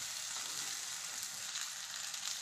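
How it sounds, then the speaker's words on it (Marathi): Rice grits, peanuts and vegetables sizzle steadily in hot tempering oil, a dense even crackle throughout with no voices. "हे सर्व साहित्य आपण आता या फोडणीमध्ये टाकूयात"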